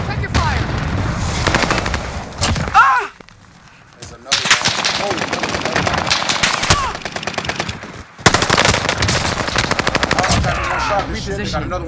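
Rapid automatic gunfire rattles in long bursts in Call of Duty Warzone. The volleys are loud and near, with brief lulls between them and a sharp crack after one pause. A voice speaks over part of the shooting.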